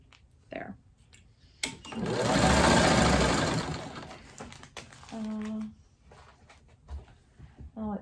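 A sewing machine runs in one steady loud burst stitching fabric strings for a spider web string quilt block, followed by a shorter run, with a few handling clicks and brief talk around it.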